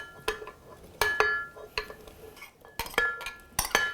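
Fresh blueberries poured into a blender, each pour landing in quick clattering, clinking bursts that come in uneven clusters, close and fairly loud with no talking.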